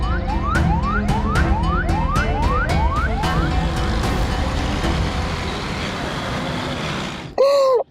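A loud, close emergency siren wails in repeated rising sweeps, then holds a steadier tone, ending in a brief sharp electronic chirp; no voices are heard.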